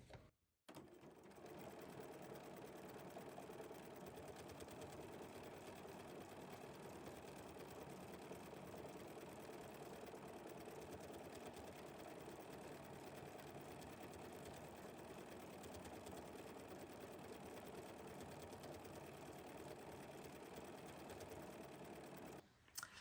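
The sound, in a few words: sewing machine stitching a combo stitch on fabric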